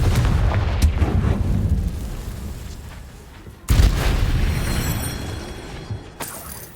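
Confringo blast spell in Hogwarts Legacy goes off as two heavy booming bursts, the second louder, each trailing into rumbling debris and decay, with softer cracks in between and no voice during the blasts.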